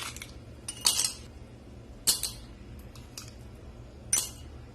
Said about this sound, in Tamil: இப்போ 2 கிளாஸ் எடுத்து வச்சிருக்கேன். இதுல வந்துட்டு தேவையான அளவுக்கு நம்ம ஐஸ் கியூப் சேர்த்திக்கலாம்